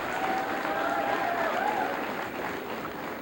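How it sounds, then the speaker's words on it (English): Parents, teachers and friends at a 1993 high school senior assembly receive applause from a crowd of clapping hands, a continuous broad roar heard through a hissy old tape recording, with a faint tone running underneath. "Gentlemen, please applaud your parents, teachers, and friends"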